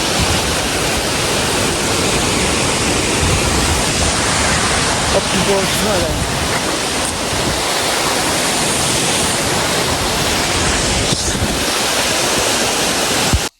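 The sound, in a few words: waterfall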